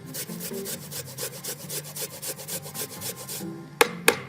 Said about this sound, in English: You can slice it or you can grate it